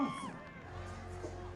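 A crowd cheers and whoops after a band finishes its set, a short, fairly faint burst of distant shouting voices that tapers off quickly.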